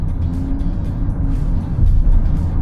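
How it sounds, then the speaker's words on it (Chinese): A BYD Seal 06 DM-i plug-in hybrid sedan's engine under acceleration, heard from the cabin as a steady, loud low hum that swells slightly toward the end, with no talking. "然后咱们加速听发动机声音。"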